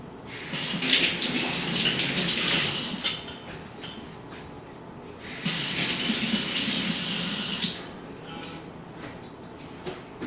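Running tap water rinses a spoon in a sink, hissing loudly in two long bursts separated by quieter splashing and handling, close and without talk.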